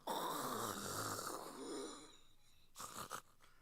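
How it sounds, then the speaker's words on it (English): A video game character in Triangle Strategy snores loudly, one long rasping, wheezy inhale ending in a snort, followed by quieter breathy puffs, close and alone. "What is up with this snoring?"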